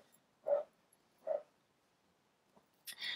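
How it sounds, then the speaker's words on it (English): Dog barking in a garden: two short, faint barks about a second apart, heard from some distance in otherwise quiet surroundings, followed by a brief scuffle of noise. "That is my Bertram, who is running around at the garden barking at everything he sees or hears"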